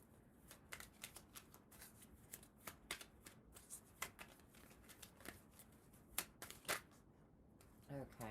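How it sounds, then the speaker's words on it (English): Tarot cards are shuffled close by in quick bursts of crisp riffling and flicking, quiet and repeated across several seconds. "Just one card at a time."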